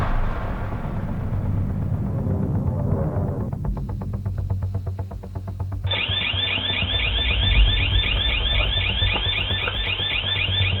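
A wireless security alarm in an RV goes off, starting with a rumbling buzz, then a rapid pulsing tone, then a loud shrill warbling siren that repeats steadily and close.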